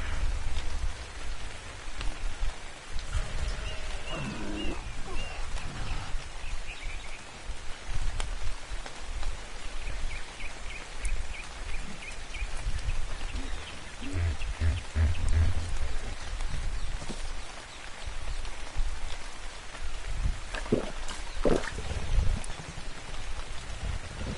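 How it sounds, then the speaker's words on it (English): Steady rain in the video game Ark: Survival Evolved patters on a surface in a continuous wash of noise, with a few faint chirps and brief louder splashes scattered through it. "Wish it wasn't raining."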